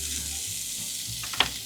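Caul fat sizzles loudly in a preheated dry frying pan, a steady crackling hiss with a brief stir or scrape near the end.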